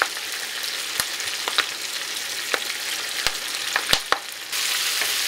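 Collard greens sizzling in a pot with hot Italian sausage, a steady crackling fry punctuated by several sharp clicks and taps, with a brief hiss change near the end.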